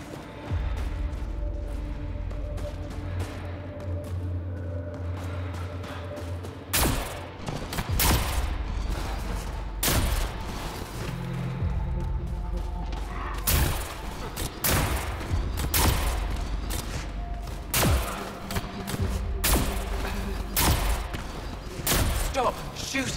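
Gunfire in the video game Mass Effect: Andromeda, with sharp bursts and thuds scattered irregularly across a busy, loud combat scene, some shots close and heavy, under a steady bed of game noise and occasional talk.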